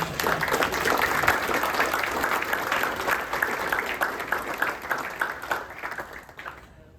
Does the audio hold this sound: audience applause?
yes